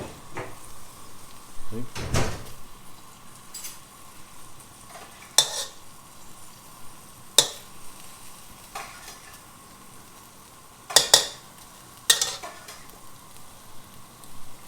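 Vegetables sizzle steadily in extra virgin olive oil in a wok, with scraping stirs and several sharp clanks of the utensil against the metal, while someone speaks briefly.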